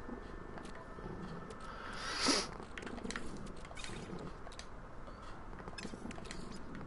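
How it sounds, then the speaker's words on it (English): A pet cat purrs in a low, uneven, rough rhythm that sounds broken and stuttering, close by and fairly quiet, with one brief sharp rustle partway through. "my cat is making a weird noise. He has a strange broken purr."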